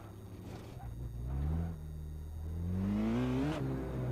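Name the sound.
racing car engine accelerating on the Nurburgring, from a video game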